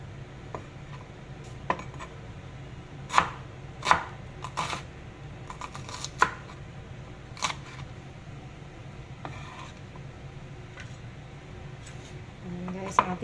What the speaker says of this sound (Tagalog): Ayan guys ang ating sibuyas, nagayat na natin.